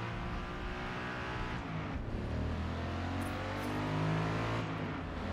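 A race car laps a track in Forza Motorsport, its engine droning steadily at mid distance with rising and falling revs and a brief gear-change dip, no voices.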